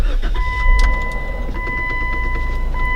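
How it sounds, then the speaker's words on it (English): A 6-speed manual Jeep's engine starts and settles into a steady idle, with a loud low rumble throughout and faint whining tones above it. No one speaks. "you can go ahead and start the car"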